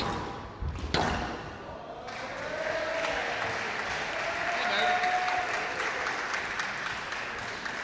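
Sustained applause from a crowd watching a women's squash match at the Canadian Senior Championships, steady and fairly loud, with a thud early on.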